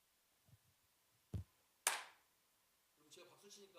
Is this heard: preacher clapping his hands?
yes